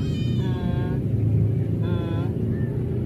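A cat meows twice, clear and fairly close, outdoors near the great mosque in Lubuklinggau, South Sumatra, over a constant low rumble of traffic.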